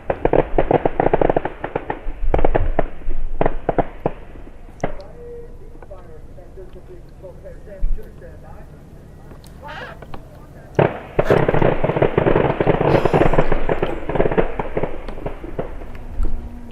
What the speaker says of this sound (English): So we've been sitting here listening to the machine guns.